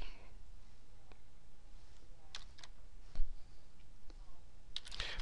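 A computer keyboard being used to type an address, with a handful of sparse, separate key clicks spread over a quiet room background.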